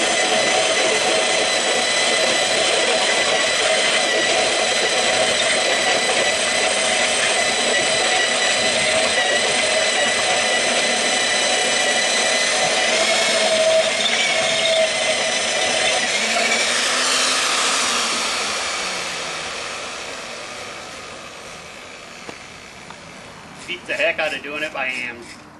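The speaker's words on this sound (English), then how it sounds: "using the little handheld drill" A small electric drill whines steadily for a long stretch, then winds down and stops, followed by brief clatter and handling noises.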